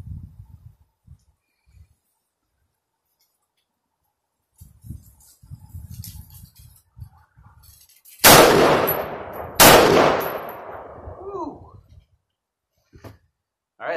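Two sharp, loud rifle shots from a .22 Nosler rifle at an outdoor range, roughly a second apart, each ringing out with a decaying echo after quiet handling noises.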